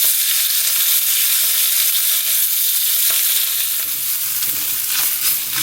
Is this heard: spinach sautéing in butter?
yes